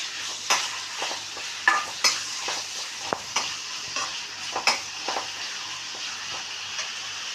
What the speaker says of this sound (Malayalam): സബോള നന്നായിട്ട് ഫ്രൈ ആയിട്ടുണ്ട്.